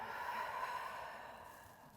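A soft, steady breath exhaled during a thoracic mobility exercise done sitting on the heels with arms forward, faint and close, alone without talk.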